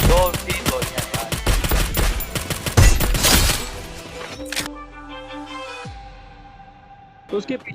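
Rapid bursts of gunfire from the Free Fire battle-royale game, loud and dense for the first few seconds, then fading into a quieter stretch with a few scattered shots and a closing burst.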